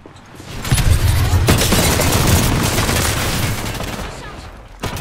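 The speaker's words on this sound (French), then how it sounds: "Je lance une grenade thermique." A thermite grenade thrown in the Apex Legends video game bursts into a loud, roaring fiery rush that holds steady for several seconds, then drops away before a sharp final crack.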